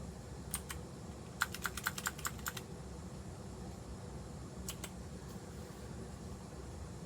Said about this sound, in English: we do have to type it in